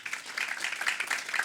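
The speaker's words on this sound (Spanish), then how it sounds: "con un aplauso recibimos a don Mario Pavón, presidente del directorio" An audience at a microfinance network assembly applauds, a short, fairly faint burst of steady clapping.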